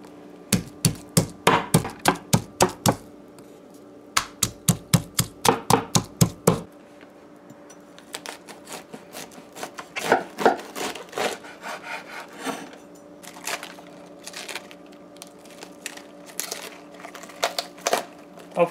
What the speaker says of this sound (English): Now we are pounding our garlic.